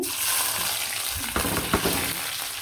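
Onions and chickpeas frying in hot oil that was used for deep-frying potato chops and aubergine fritters, a close, dense sizzle with a couple of brief stirring scrapes partway through, no voices.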